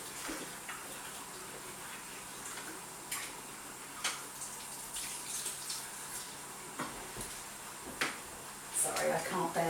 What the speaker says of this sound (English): I'm going to have to wash my hands, they're too dirty